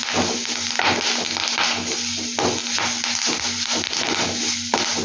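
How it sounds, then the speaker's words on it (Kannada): Drumstick leaves fry in hot oil in a pan, a loud steady sizzle and crackle with rhythmic stirring scrapes repeating throughout, close and without voices. "ಇಷ್ಟು ಘಮ ಬರೋ ತನಕ ಚೆನ್ನಾಗಿ ಫ್ರೈ ಮಾಡ್ಕೊಬೇಕು"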